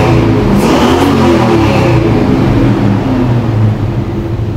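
Old car parked with no load, engine revved hard: a loud, close roar that climbs in pitch then settles into a strong steady drone, easing slightly near the end.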